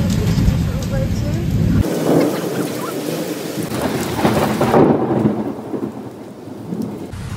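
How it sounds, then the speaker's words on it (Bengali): Heavy rain pours steadily outside with rolling thunder rumbling through it, loud and continuous, swelling in the middle before easing slightly toward the end. "বাইরে প্রচন্ড বৃষ্টি, মেঘ ডাকছে"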